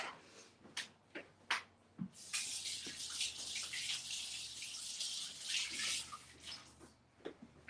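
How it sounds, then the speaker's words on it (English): Tap water splashes steadily over hands at a kitchen sink while preparing sticky rice, preceded by a few short clinks and knocks; a continuous broad rush fills most of the clip. "run some water on your hands so it doesn't stick"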